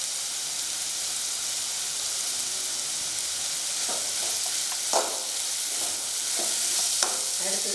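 Spices stir-fry in a pan for veg masala idiyappam, a steady sizzle running throughout with a few spoon scrapes and clinks rising near the end.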